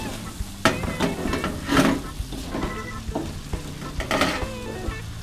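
Young corn and meatballs stir-frying in a pan, a steady sizzle broken by repeated scraping and clacks of the spatula tossing the food, close and fairly loud with no voices.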